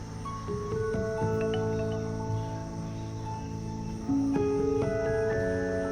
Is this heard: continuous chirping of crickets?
yes